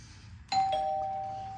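A single electronic doorbell chime at a house rings out nearby, a bright tone that strikes once with a quick second note and then sustains and slowly fades over a quiet room.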